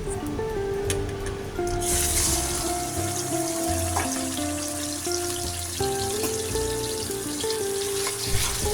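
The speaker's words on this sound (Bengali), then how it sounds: "একটা কড়াইয়ে পরিমাণ মতো তেল ঢেলে সেটা একদম পুরাই গরম করে নিয়ে মাংসটা ঢেলে দিয়েছি" Chicken meat frying in very hot oil in a wok (kadai), a steady, loud sizzle and crackle running throughout with a bright hiss near the start, plus faint background tones.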